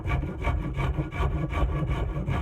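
A tool rasps rhythmically across an ash axe handle to shape the flare at its end, giving steady, close, evenly spaced scraping strokes with no talk.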